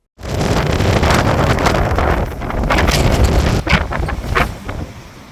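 Strong wind at the Norwegian coast roars and buffets the microphone continuously, a loud rushing blast with gusts that swell and ease.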